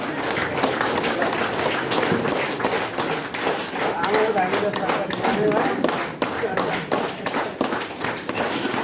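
Sustained loud applause from an audience at an honouring ceremony, dense clapping with scattered thumps running steadily throughout.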